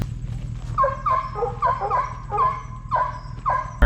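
Hunting hounds on a bear hunt give repeated high, whining yelps and short yips at close range, coming in quick uneven bursts.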